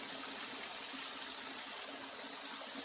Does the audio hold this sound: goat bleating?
no